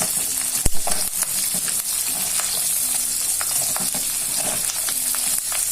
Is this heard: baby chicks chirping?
no